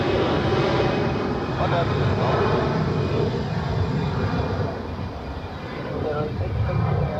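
A Eurowings airliner takes off for Hamburg at Zurich Airport, its loud engine roar sustained throughout with a brief dip, as a voice speaks briefly over it.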